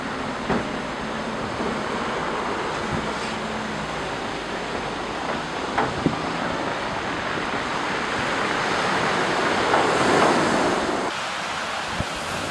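Ocean waves break on Pavilion Beach in Gloucester, Massachusetts, during the 2015 blizzard, making a continuous loud roar of surf mixed with gusty wind buffeting the microphone and occasional faint knocks.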